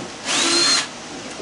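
A power drill with a 1/4-inch extension bit spins out screws from the back of a CRT television being scrapped for copper, one loud whirring burst of about half a second, then quiet.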